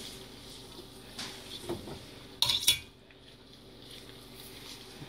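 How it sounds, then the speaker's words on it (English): Butter being stirred into meatball sauce in a pan: soft, quiet scraping, then a couple of sharp metallic clinks of a utensil against the pan, with quieter stirring afterward. "You want to mix all the butter in."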